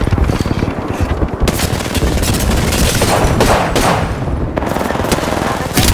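Rapid gunfire in a first-person shooter match, with dense, sustained bursts of shots and impacts running the whole time, loud and close, with occasional booms mixed in.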